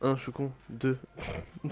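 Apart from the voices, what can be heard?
No everyday noises stand out.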